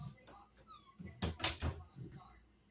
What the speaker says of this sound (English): Let me close Timmy's door.